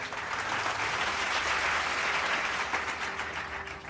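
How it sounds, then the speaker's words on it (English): An audience at a college years-of-service celebration applauds an employee, a steady wash of clapping from many hands that holds at an even level throughout. "Let's give David a round of applause for 15 years of service."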